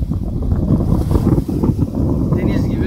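Wind buffets the microphone in a rough, continuous roar while choppy lake water sloshes and splashes nearby, near Ekşidere village in Gönen, Balıkesir.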